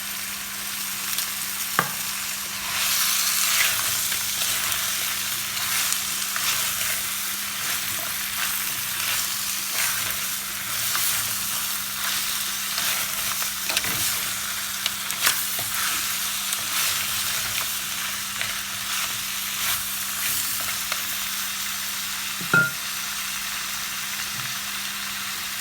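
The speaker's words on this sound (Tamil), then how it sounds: "ரெண்டு 3 நிமிஷம் இந்த நண்டு வடிவாக எண்ணெயில் வதங்கட்டும்" Crab frying in oil for a crab curry, a steady crackling sizzle that runs throughout, with occasional utensil clinks against the pan, a low background hum and no talking.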